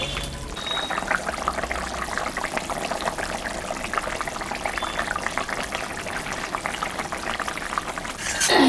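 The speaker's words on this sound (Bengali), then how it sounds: "10 মিনিট ঝোলটা ফুটুক, তারপরে মাছটা দেব" Fish curry (jhol) with potato and eggplant bubbles in a pot, a steady close simmering burble with soft liquid churning throughout, rising slightly at the end.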